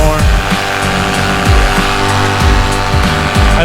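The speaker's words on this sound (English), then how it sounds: "I don't want to, like, stay at full throttle for a super long period of time, being that, this motor is freshly rebuilt" A freshly rebuilt paramotor engine drones loud and close at high throttle during a climb, with a continuous buzzing roar and rhythmic pulsing, under rushing wind.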